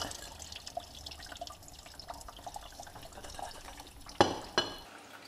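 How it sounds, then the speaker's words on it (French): Engine coolant draining from a 1.6 HDI diesel engine during a timing belt and water pump job, heard as a faint steady trickle with a few sharper drips near the end. "Vous laissez bien vider comme il faut. Ouais, on va attendre que ça s'égoutte."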